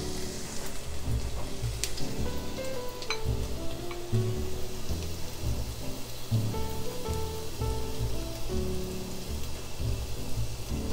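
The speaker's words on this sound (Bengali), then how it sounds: "আমি এখানে অল্প একটু অলিভ অয়েল দিয়ে দিছি, আর মিঞ্চ করে যে গার্লিকগুলো এগুলো দিয়ে দিচ্ছি" Minced garlic sizzling in a little olive oil in a pot gives a continuous, even crackling hiss like light rain. It is close and steady for the whole stretch, with no voices.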